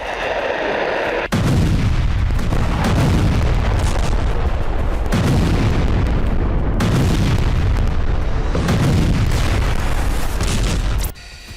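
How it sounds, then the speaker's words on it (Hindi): Heavy bomb blasts from Russian FAB 3000 bombs striking Ukrainian military and energy sites, a loud continuous roar of booming explosions and rumbling impacts with repeated surges, no speech. "रूस यूक्रेन के सैन्य और एनर्जी ठिकानों को जलाने के लिए FAB 3000 बमों से हमले कर रहा है।"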